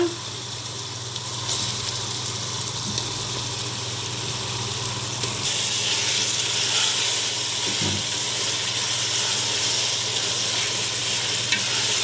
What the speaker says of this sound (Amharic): ይሄው ሽንኩርት ብስሚላ፣ ይሄው ነጭ ሽንኩርት፣ ስጋ ልጨምር ብስሚላ፣